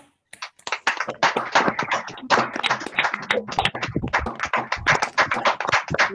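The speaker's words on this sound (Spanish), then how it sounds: "darle un aplauso al maestro" An audience applauds a teacher after a talk on assertiveness and social skills, starting abruptly after a brief silence and continuing as irregular, fairly close clapping with distinct individual claps.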